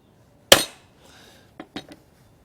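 A hammer strikes a steel drive punch on a metal bracket to mark a drill spot: one sharp, loud metallic tap, then two lighter quick taps a second later, close and alone.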